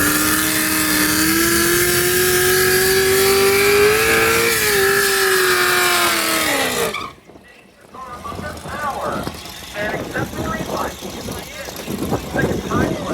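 A race car engine runs loud and steady with a rising and falling tone, then drops off sharply into a brief near-silence before mixed, rougher engine and crowd noise returns.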